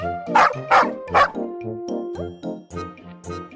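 A dog barks in a quick burst of three or four yips, followed by softer whimpering, close and clear with no talking.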